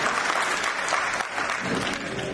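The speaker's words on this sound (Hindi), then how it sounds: "तो एक बार जोरदार तालियां हो जाए अनवर भाई के लिए" Audience applause at a community scholarship program event, steady dense clapping throughout, moderately close and fairly loud, with no talking over it.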